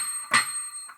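A single bright, bell-like high note on the grand piano voice of a Yamaha DGX-640 digital piano is struck once, brief and thin, with a faint softer note following.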